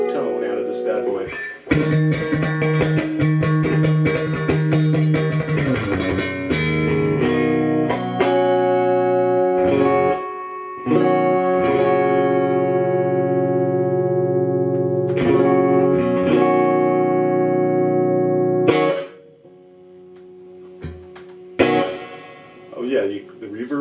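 Electric guitar played through a Fender Jam amplifier with reverb dialed up for a surf tone: sustained chords and ringing notes in a steady strum, loud and close, with a brief drop to quieter picking near the end.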